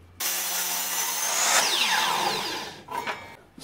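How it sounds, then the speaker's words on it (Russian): A power saw crosscuts 70 mm wide wooden blanks to length, giving a loud, sustained whining rasp through the wood that rises then winds down, ending in a few short knocks. "Заготовки шириной 70 мм отторцуем под длину"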